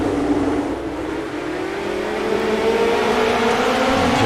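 Field of midget race cars roaring off at the green flag start on the Eldora dirt oval, a dense, loud wall of engine noise with rising revs building steadily.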